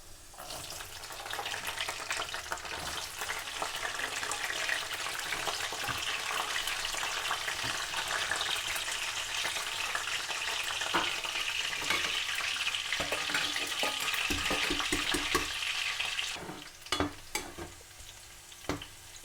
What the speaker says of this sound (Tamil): இது நல்ல பொன்னிறமாக இந்த உள்ளி பொரிக்கணும்.